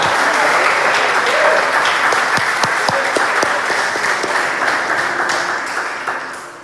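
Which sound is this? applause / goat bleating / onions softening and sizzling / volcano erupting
applause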